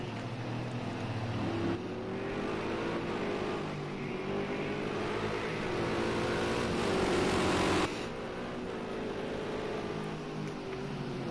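Touring race cars in a Project Cars 2 GrandAm touring series race drone and rev at a distance as they battle for position, a steady engine roar with rising and falling pitch as gears change.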